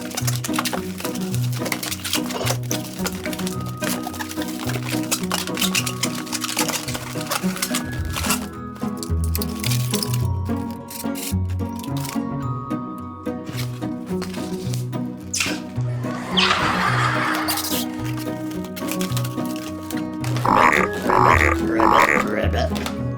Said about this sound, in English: I would make you a balloon animal frog today